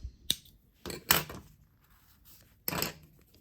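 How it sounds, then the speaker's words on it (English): Two or three crisp scissor snips cutting cotton yarn, the blades closing sharply, followed by a duller clack, close by with quiet pauses between. "then you can take your scissors, cut off your yarn"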